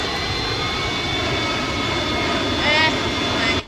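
A jet aircraft flies in a shooter video game, its engine a loud, continuous roar that swells slightly near the end before cutting off abruptly.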